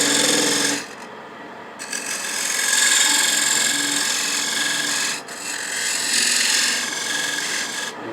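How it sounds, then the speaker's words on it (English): A thin parting tool cuts into a wooden picture frame spinning on a lathe, giving a loud, steady rasping scrape that dips briefly near the start and again around the five-second mark before resuming. "I'm going to part through here with a thin parting tool"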